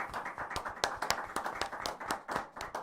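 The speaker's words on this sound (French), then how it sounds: "On peut l'applaudir encore bien fort, notre Alexandre." Scattered hand claps from an audience at a Valentine's Day magic show, a thin, uneven patter of claps at moderate distance with no chanting or speech.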